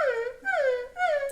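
A human voice imitates a puppy's whine with three high, sliding, falling whimpers in quick succession, close and clear, with no other sound around it.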